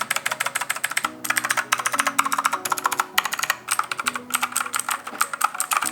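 Rapid, crisp clicking comes from a mechanical keyboard with blue switches and white keycaps being tested. Keystrokes fall in quick, uneven runs with a few brief pauses, close and clear with no voices.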